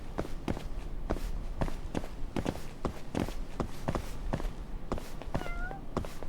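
A cat meows a couple of times near the end in a video game, faint under a steady run of rhythmic footsteps.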